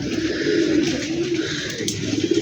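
A highflyer pigeon coos close by in a low, steady, repeated burble.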